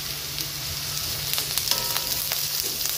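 Chicken curry masala with chilli powder sizzles steadily in a pan, a constant close fry broken by occasional spoon scrapes and stirring clicks.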